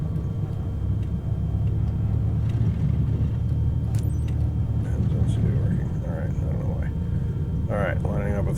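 A CubCrafters tailwheel airplane in Microsoft Flight Simulator 2024 rumbling down the runway on takeoff, a steady loud engine drone throughout with someone talking over it.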